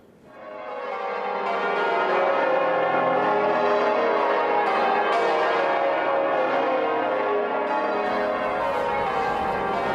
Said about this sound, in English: This is the highest and the heaviest peal of bells in the whole world.